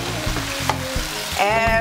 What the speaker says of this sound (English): Now we'll go ahead and add our onions, green peppers, and red peppers into the tomatoes.